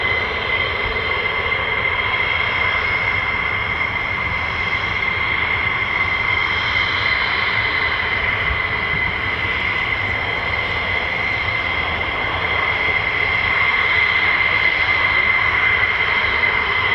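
F-15 and F-35 fighter jets taxi at an air force base, their engines producing a loud, continuous roar with a piercing steady whine that holds throughout.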